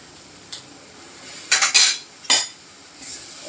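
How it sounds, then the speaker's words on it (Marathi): A spatula clanks and scrapes against a metal pan while a dry kurdai vegetable dish is stirred, with a few sharp, close metallic bursts separated by near-quiet pauses. "एकदा छान हलवून घ्यायचे."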